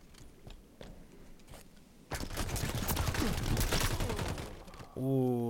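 Rapid assault rifle fire from Halo 5 multiplayer free-for-all, a dense sustained burst after quieter scattered shots, then a loud electronic tone closes it.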